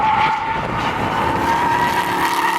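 A Dodge Hellcat drifts sideways through a race track lap, its engine roaring loud and steady with tire noise underneath the whole time.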